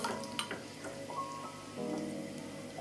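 Garlic browns in hot oil for Guyanese dahl, giving a close, crackly sizzle with scattered pops and faint tonal kitchen hum underneath, no voices.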